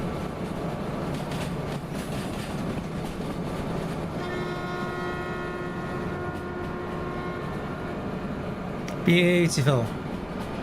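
Steam train rolling along in the Derail Valley simulator, a steady broadband rumble with a sustained tonal whine entering partway through and a brief louder burst near the end, under a short spoken word.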